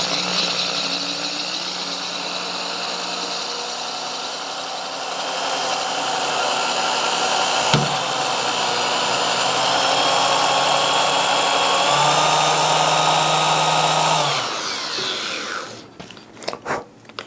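A drill bores steadily into a 25 lb quartz gemstone with a loud, sustained whining grind, its pitch shifting slightly, a brief knock midway, then it winds down and stops, leaving a few clicks.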